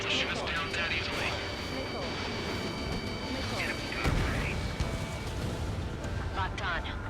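A fighter jet accelerates toward takeoff inside a tunnel in Ace Combat 7, a steady loud engine roar with rumbling wash and a brief surge near the middle, overlaid with game music tones and radio chatter.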